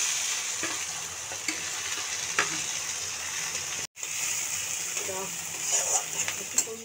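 Chili and tomato frying in a pan, a constant hissing sizzle with occasional stirring scrapes, close and even, broken by a brief cut midway before the sizzle resumes.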